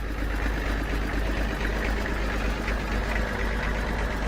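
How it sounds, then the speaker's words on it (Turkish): A 1952 Austin truck engine idles steadily with a low, rumbling drone that holds even throughout, no voices over it. "motorun sesi duyuyor musunuz?"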